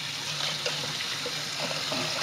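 Cold water running from a tap to rinse out the inside of a raw turkey, a steady broadband splashing rush that holds close and continuous for a couple of seconds with no talking.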